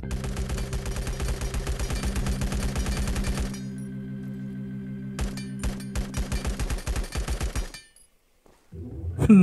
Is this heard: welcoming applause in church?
no